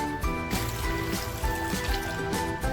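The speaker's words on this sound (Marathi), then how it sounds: "साखरमध्ये आहे ना तीन कप पाणी टाकते आहे मी" Water poured onto sugar in a kadhai, a close, steady splashing trickle lasting a few seconds with no talk over it.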